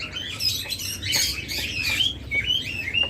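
Pet birds at a breeding farm, among them lovebirds, budgerigars and cockatiels, keep up a busy mix of close squawks and shrill chirps with no talking.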